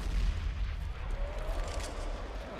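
Grenade blasts during a pro Counter-Strike: Global Offensive match at ESL One Cologne 2018, a heavy low rumble sustained throughout with a faint sweeping whistle midway, no talk over it.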